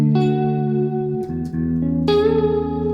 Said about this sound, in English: I've got a thing called a Shallow Water, which I really like, which is a modulation thing, but it's almost like a warp in a vinyl or something